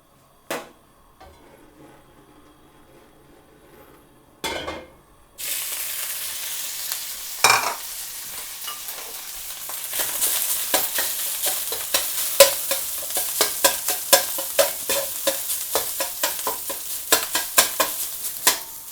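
Egg fried rice of egg, rice, seasonings and oil stirred and fried in a pan: a few scattered knocks, then a steady close sizzle with rapid clattering spatula strokes that grow busier toward the end.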